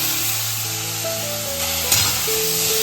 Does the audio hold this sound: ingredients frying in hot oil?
yes